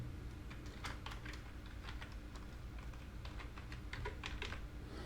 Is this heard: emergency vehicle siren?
no